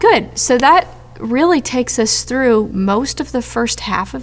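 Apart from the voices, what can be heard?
None of the usual background noises is heard.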